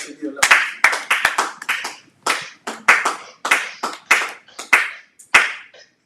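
Church congregation clapping together in worship, a run of sharp rhythmic hand claps in bursts, loud and close, with voices mixed in.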